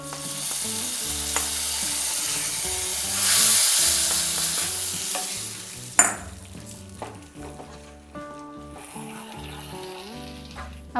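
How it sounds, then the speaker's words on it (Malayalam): A mustard seed tempering crackling in hot oil is poured into a Kerala ginger curry; steady sizzling swells, then a sharp clatter and splash mark the pour, followed by quieter bubbling, with no talking. "നമുക്ക് ഈ കടുക് വറുത്ത് കറിയിലേക്ക് ഒഴിച്ചു കൊടുക്കാം."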